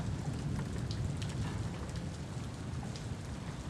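Steady rain in the sailing video game Following Seas, a continuous even hiss with scattered drop patter that stays constant throughout.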